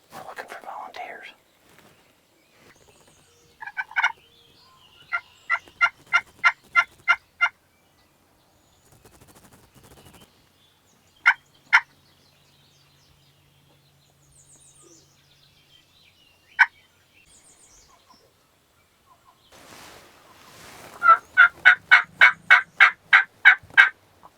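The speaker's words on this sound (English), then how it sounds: "We just need turkeys to gobble and one to play the game." Wild turkeys gobbling during a Michigan spring hunt, rapid rattling gobble bursts heard far off, a couple of isolated gobbles in between, and a louder close gobble at the end, with faint whispered talk around them.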